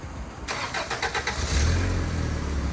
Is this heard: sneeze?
no